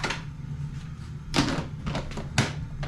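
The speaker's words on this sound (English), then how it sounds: "Put your lid on it." A lid is pressed onto a storage container holding turkey calls, giving a few dull plastic clacks and thumps at close range over a steady low background hum.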